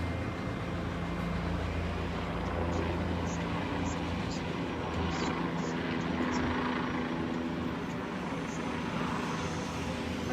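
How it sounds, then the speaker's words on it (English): Steady droning rumble of helicopters overhead during a riot and fire in Midway, Saint Paul, a continuous low engine and rotor roar filling the scene without pause. "Helicopters."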